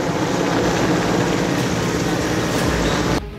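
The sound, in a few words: helicopter dropping commandos on a hotel roof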